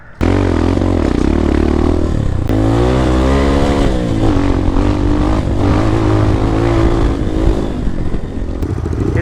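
A group of seven trail motorcycles revving and riding together on the Maarat Trail in San Mateo, a loud, continuous roar of engines with shifting pitch as they accelerate, plus some rattling clatter.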